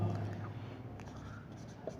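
Pen scratching across paper while a physics diffraction numerical is worked out, a faint, steady rasp of continuous writing with a few small taps, close by in a quiet room.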